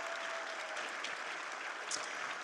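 Audience applause at a university fundraising brunch, a dense, even patter of many hands clapping at moderate distance, filling the short stretch with no speech over it.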